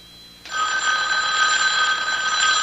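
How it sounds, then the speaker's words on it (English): An old telephone bell rings in a radio mystery drama, a loud continuous electric trill starting abruptly and sustaining steadily, alone without voices. "Well, Mrs. Greenway, aren't you going to answer it? Answer? The phone."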